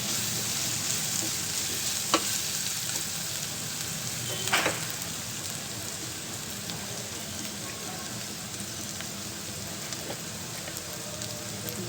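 Tindora (ivy gourd) curry being stirred with chili powder in a hot pan: a steady, close sizzle runs throughout, broken by a few sharp spoon clicks against the pan.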